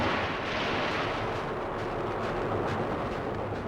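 Aircraft bomb and strafe a British fleet at anchor in a bay during the 1982 Falklands War, a dense, continuous roar of explosions and rumbling gunfire with distant booms and no let-up.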